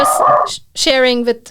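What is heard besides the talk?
dog barking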